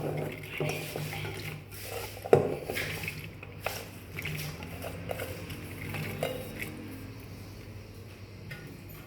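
Chopped carrots and beans tumble into a pressure cooker in a home kitchen, making a steady run of soft clatters and small knocks, with one sharper metallic clink partway through and no talking.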